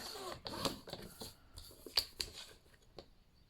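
Fold lines scored into paper for a papercraft journaling folio, heard as soft, faint scratchy strokes close by, several short drags spread across the moment with quiet pauses between.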